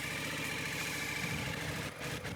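A motorcycle engine runs steadily at moderate revs during a slow U-turn in a rider training session, a continuous mid-pitched drone with a brief dip near the end, no talk.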